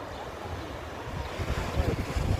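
Stormy sea surf pounding the beach at Adler, Russian Black Sea coast, with waves rolling in and breaking loudly and continuously, a strong wind buffeting the microphone, and the crashing swelling toward the end.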